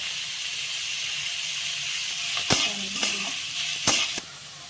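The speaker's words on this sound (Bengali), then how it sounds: "এই দেখুন পেঁয়াজ কলিগুলো দিয়ে নিচ্ছি এর সঙ্গে ভেজে নেবো" Loud continuous hissing sizzle of onion stalks and onion frying in a pan, broken by a few sharp scraping stirs and clacks.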